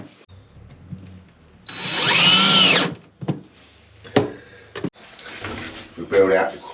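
Power drill driving stainless steel screws on a boat build, one loud whirring burst of about a second, then shorter drill bursts and knocks, with someone talking in between.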